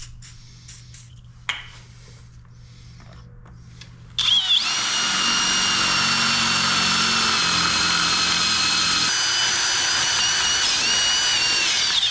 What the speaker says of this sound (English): drill a hole through the front right there